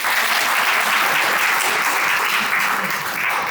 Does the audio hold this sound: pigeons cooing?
no